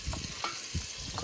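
Spices crackle and sizzle in hot oil as a tempering for crab curry cooked aboard a fishing boat, a steady close hiss with a spoon stirring and scraping through it.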